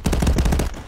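Rapid automatic gunfire from the VR shooter Contractors, a loud, close burst of about eight evenly spaced shots that stops abruptly.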